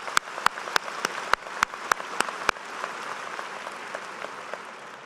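Applause at a business school spring commencement, starting with a few sharp, evenly spaced claps and then blending into a steady patter of many hands, heard from a distance at moderate volume.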